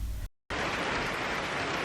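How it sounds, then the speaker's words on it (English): Heavy rain pours outside in a dense, steady hiss that cuts out for a split second near the start and then resumes unbroken, loud and close, with no talking. "Warning, it is pouring outside."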